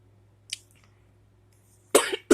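A faint short cough, then after a pause two sharp, louder coughs close by.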